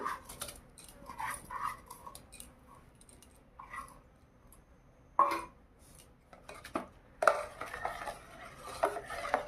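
A spoon stirs Gobindobhog rice simmering in milk in a pot for mango payesh, with intermittent close scrapes and taps against the metal separated by quieter stretches, no one speaking.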